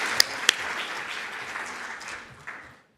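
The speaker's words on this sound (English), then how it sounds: "this round of applause to her" Audience applause rings out on the main stage of a radiation protection and nuclear forum for a speaker from France: a soft, diffuse patter with two sharp claps near the start, fading away toward silence.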